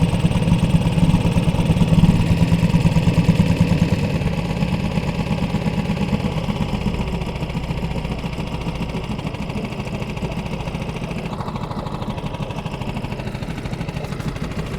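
A tiny 4HP boat outboard engine idles while warming up, a close, steady rapid putter that runs continuously, slightly louder at first then settling into an even chug, with no voices.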